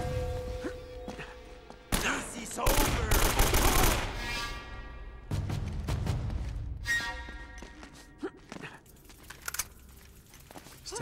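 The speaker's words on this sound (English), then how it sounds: "Pop out the AK." An AK rifle fires in loud bursts in the video game Uncharted: Drake's Fortune, with rapid crackling volleys, sharp impacts and a few scattered single shots trailing off.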